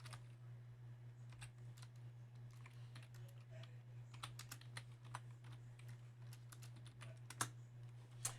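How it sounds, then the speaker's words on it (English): Keys pressed on a TI-Nspire calculator keypad while equations are entered, a string of faint, irregular clicks over a steady low hum, with one sharper tap near the end. "I'm going to type in those two equations exactly as they appear"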